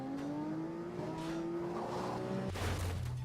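A Lamborghini flung through the air in Garry's Mod, with a steady engine drone rising in pitch and then a loud crash-like burst near the end, all without talk.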